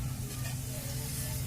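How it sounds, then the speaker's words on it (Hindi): Ghee sizzles in a hot kadhai as a tempering is started for kadhi pakora, giving a steady, even hiss with a low hum beneath it and no one talking. "अभी सबसे पहले हम कढ़ाई के अंदर घी डालेंगे।"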